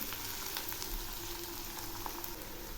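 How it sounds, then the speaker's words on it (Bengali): Potatoes and onions fry in a pan with a continuous, dense, even sizzle, close up and moderately quiet, with no voices over it. "দেখুন আলুগুলো ভাজা প্রায় হয়ে এসছে, আর এর সঙ্গে পেঁয়াজও ভাজা হয়ে যাচ্ছে।"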